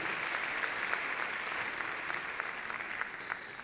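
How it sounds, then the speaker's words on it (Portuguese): Applause from a conference audience, a dense, steady patter of many hands clapping that carries on throughout at moderate loudness, with no talk over it. "para quem eu peço uma salva de palmas para a Nieves."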